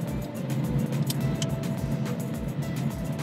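A VinFast car pulls away from a standstill in sport mode, its engine and road noise rising in a steady, fairly close drone with no talk.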